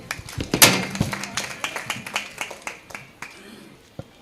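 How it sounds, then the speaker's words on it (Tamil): At a women's association anniversary celebration in Tiruchirappalli, a small audience claps in welcome, a ragged burst of hand claps that thins out into scattered taps over a few seconds. "அவரை கைத்தட்டலுடன் வரவேற்போம்"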